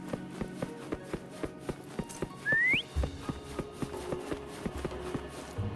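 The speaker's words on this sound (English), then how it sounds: "Try whistling." A rising whistle blown to call a mount in the video game Wuthering Waves, a single short upward-sweeping note in the middle of game background sounds with regular tapping footsteps.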